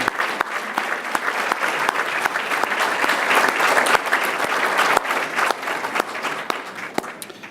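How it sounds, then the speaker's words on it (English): An audience applauds steadily at an indoor tourism industry gathering as certified bureau members stand, dense sustained clapping filling the room for several seconds without pause. "let's give you all a round of applause"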